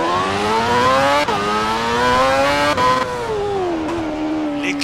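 A race car engine in Assetto Corsa holds at high revs with a loud, steady whine, dips briefly at each gear shift, then climbs again.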